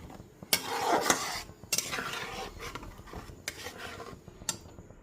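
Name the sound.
spice paste being sautéed and stirred on low flame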